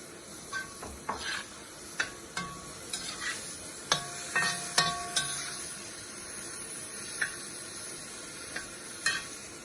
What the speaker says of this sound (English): Next, you put the carrot in because the carrot takes a bit longer to cook.